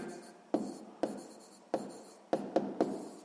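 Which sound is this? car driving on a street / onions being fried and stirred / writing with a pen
writing with a pen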